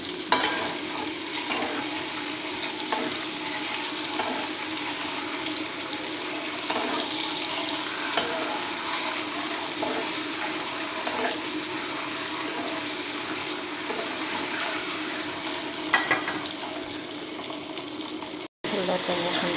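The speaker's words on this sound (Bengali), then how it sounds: "এখন আমি ডিমটা এবার ভেজে নেব।" An egg frying in a steel pan in a home Barishal-style kitchen, a steady sizzle with occasional stirring scrapes and watery bubbling, continuous and close, briefly cut near the end.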